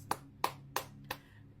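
Four single hand claps at an even, slow pace, close and sharp with short decays, then quiet.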